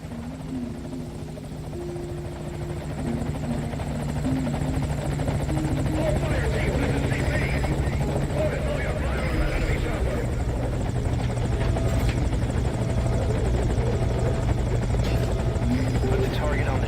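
A helicopter flies in toward a landing zone with a steady rotor thrum and turbine whine that grows louder and then holds, voices talking faintly under the engine noise.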